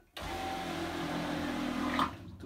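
Boat toilet on a Vacance 1400 cruiser pumping out, a steady loud mechanical whir with rushing water running continuously for about two seconds, then cutting off.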